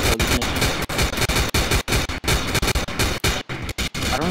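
Rapid, loud bursts of automatic gunfire from the video game Codename Cure, dense rattling volleys broken by short gaps, close and dominant throughout.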